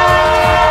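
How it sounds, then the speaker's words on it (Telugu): A train's horn blares loud and close in one sustained, steady chord of stacked tones, filling the whole short moment. "ట్రైన్ వస్తుంది"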